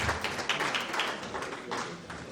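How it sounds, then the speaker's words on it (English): Audience at a women's conference claps in a steady, dense patter that fills the room at moderate loudness with no pauses. "Another round of applause to that phenomenal woman"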